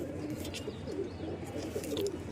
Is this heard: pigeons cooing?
yes